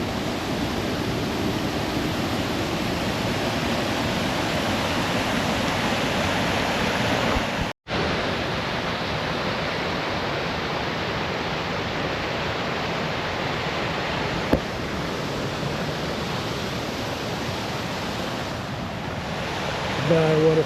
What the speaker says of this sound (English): Bye, waterfall.